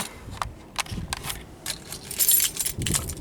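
A set of car keys for a used Acura TL jangles in several short metallic bursts, close to the microphone and fairly loud, with no talking over it.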